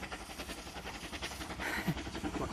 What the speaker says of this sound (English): the train always goes past.